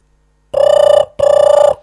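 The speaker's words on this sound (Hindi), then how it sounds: "देखी कते घंटी जाइ छै फोनो न उठबै छै" An outgoing phone call ringing unanswered, with two clear, loud electronic ring bursts separated by a short pause, heard alone with no talk.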